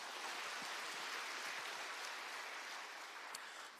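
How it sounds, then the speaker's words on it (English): A seated audience applauds in a soft, dense, continuous patter that stays even and fairly distant for the whole stretch, with no voices over it. "Let's give a round of applause to those people."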